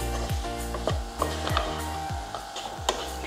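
Potato and ivy gourd pieces fry in oil with a continuous sizzle. Repeated scraping spatula strokes land about every half second, close and steady, with no voices.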